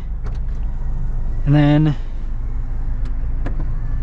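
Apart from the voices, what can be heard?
Mazda Miata RF retractable hardtop roof opening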